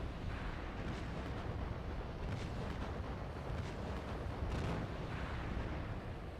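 Anti-aircraft flak over a naval battle in Task Force Admiral rolls on as a dense, distant rumble of overlapping bursts and booms. It is steady and muffled, with a few sharper crackles rising out of it, and there is no speech.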